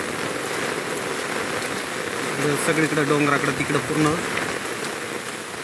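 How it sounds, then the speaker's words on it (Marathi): Steady rain pours down outdoors during a heavy monsoon-type downpour near hills and a swollen stream, a constant hiss throughout while someone talks over it close by. "कारण आज बऱ्यापैकी पाऊस चालला आहे."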